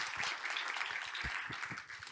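A conference audience at a nuclear nonproliferation session applauds to welcome the session chair, a dense, even wash of clapping at moderate distance with no talking.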